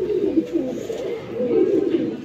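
Parwazi pigeons coo closely and fairly loudly in a steady overlapping rumble of low throaty calls, with no talking.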